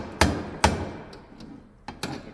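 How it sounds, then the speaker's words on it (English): A plastic hammer strikes a yoke cup during a transfer case front yoke replacement: two sharp, close knocks about half a second apart, then quieter taps and a firmer knock near the end, with no talk. "I don't have a real hammer, I've got a plastic hammer here."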